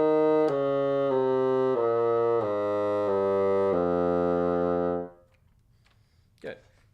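Solo bassoon plays an F melodic minor scale, a run of sustained, evenly paced notes stepping through the scale for about five seconds, clear and close, then a brief quiet tail with a small breath or handling noise.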